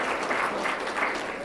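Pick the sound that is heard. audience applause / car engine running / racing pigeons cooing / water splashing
audience applause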